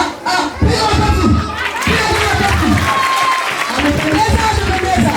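A children's church audience claps and cheers loudly with shouts, in several bursts of applause close by, with voices calling out over it.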